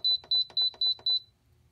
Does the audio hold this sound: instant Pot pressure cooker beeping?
yes